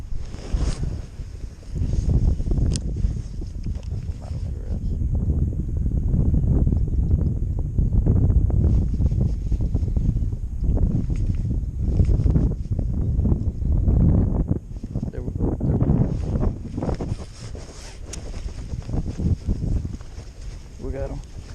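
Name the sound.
wind blowing outdoors while fishing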